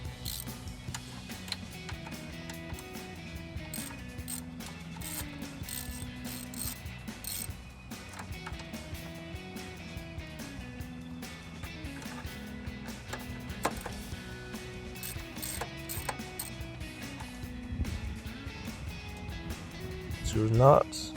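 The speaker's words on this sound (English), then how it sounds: "I'm gonna use a little ratchet. With a 10mm for the bottom bolts." A small ratchet with a 10mm socket clicks away at the throttle body bolts on a 2005-2010 Mustang GT, a faint, quick repeating pawl ticking that goes on throughout under quiet workshop sounds.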